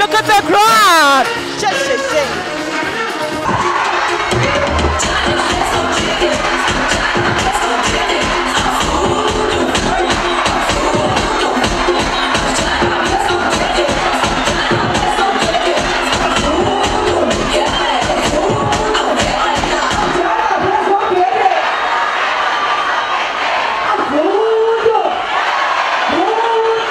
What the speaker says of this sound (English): I mean, look at the crowd.